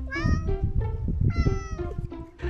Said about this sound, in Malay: Dia mengiau je dekat kucing lain.